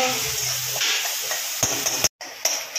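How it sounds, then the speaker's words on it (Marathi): Chopped onion sizzling and frying in a hot pan for a sprouted moth bean usal with green chilli, with a few stirring scrapes and a brief gap in the steady crackle. "कांदा चांगला गुलाबी रंगावर फ्राय करून घेऊया"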